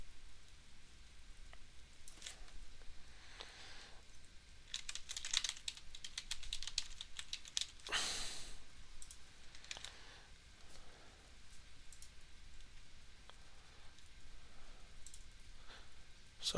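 Code being typed on a computer keyboard for a Java JFrame app populated from MySQL: quiet, steady runs of keystrokes in irregular bursts, with a louder clatter midway and no speech.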